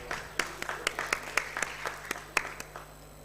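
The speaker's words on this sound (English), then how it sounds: "Please give a huge round of applause for him." An audience in a conference main hall gives a round of applause for a session chair, with scattered, uneven claps at moderate volume fading toward the end.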